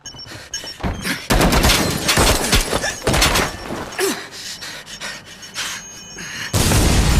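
Gunfire and impacts from an Albion squad in the video game Watch Dogs come as loud bursts of shots and thuds, with a few quieter gaps between volleys.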